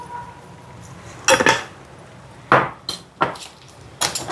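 A metal spoon clanks sharply against a cooking pot while lentil curry with garlic, pepper and cumin is stirred, a few loud, separate knocks and scrapes spaced over quiet background.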